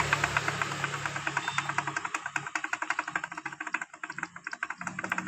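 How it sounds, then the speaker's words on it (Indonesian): A rough Yamaha Mio scooter engine idling up close, its rapid, uneven knocking and ticking running steadily throughout, caused by a rarely cleaned oil filter screen. "Suara kasar seperti ini ketika langsam."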